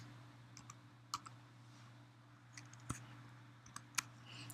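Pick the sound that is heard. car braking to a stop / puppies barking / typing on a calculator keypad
typing on a calculator keypad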